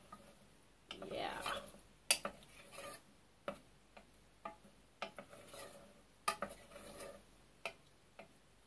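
Spaghetti fries in a hot pan while being stirred, giving soft sizzling and repeated scraping and clinking of a utensil against the pan in an irregular rhythm, close and fairly quiet.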